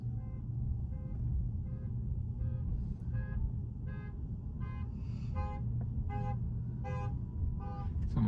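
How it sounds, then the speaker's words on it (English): A parked car's alarm sounds in the distance from a moving vehicle, a repeating series of faint chirping tones rising in pitch over the low steady rumble of the cabin and road. "Someone's car alarm going off."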